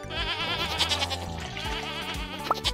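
A goat in a farming video game bleats in a loud, wavering cry that stretches across most of the clip, with a short sharp note near the end.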